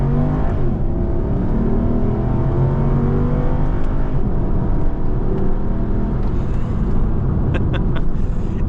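A Jaguar car with check-engine and tire-pressure warnings on accelerating hard, its engine note rising in a loud, continuous roar, heard close from inside with faint clicks near the end.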